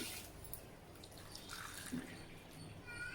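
Rice is washed by hand in a bowl of water, with close sloshing, swishing and light dripping that rise and fall unevenly, and no talking.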